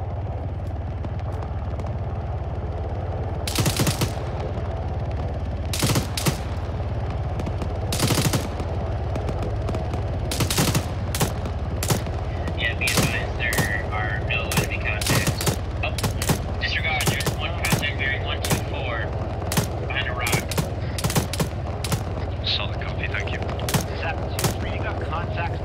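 Machine gun in a first-person military video game firing tracer rounds in short, sharp bursts and single cracks, loud and close, with a steady engine hum beneath and some background talk.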